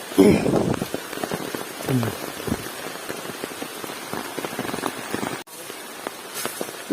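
Rain falls in rural Samar, a steady patter of drops on surfaces throughout with scattered sharper taps, while a person speaks faintly near the start.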